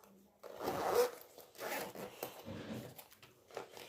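The zipper of a school pencil case is pulled shut in a few close, scratchy zipping strokes. Each stroke rises and falls in loudness, with quiet gaps between them.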